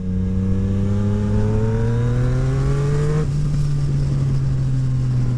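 Yamaha MT-09 motorcycle with a full Akrapovic exhaust accelerating hard, engine note climbing steadily in pitch before a quick gear shift, then continuing to pull, close and loud.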